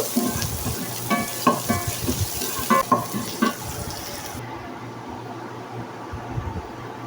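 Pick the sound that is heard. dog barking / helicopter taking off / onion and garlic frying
onion and garlic frying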